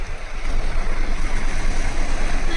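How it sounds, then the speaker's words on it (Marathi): Sea waves breaking on the shore at Alibaug, heard as a loud, continuous roar of surf with a rolling low rumble and wind noise on the microphone. "आवाज येते का आज लाटांचा"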